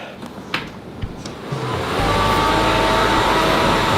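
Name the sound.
fans of a cooling jacket running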